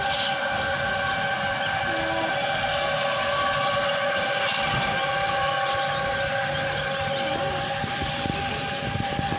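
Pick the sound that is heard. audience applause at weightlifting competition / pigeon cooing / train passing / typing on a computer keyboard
train passing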